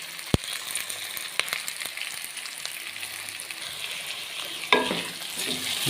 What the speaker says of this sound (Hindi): हम सब्ज़ी को थोड़ा थोड़ा सा फ्राई कर रहे हैं।